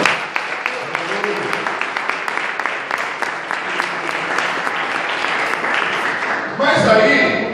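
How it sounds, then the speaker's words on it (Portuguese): A church congregation breaks into steady applause, dense clapping sustained throughout at moderate loudness, with a brief louder swell and some voices near the end. "Pode aplaudir o Senhor nessa noite."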